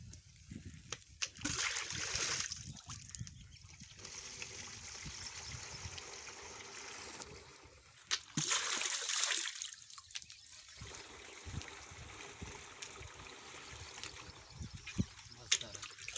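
Water pumped from a tubewell pours into a sprayer tank outdoors in a farm field, a steady close splashing and gurgling stream with a few louder surges throughout.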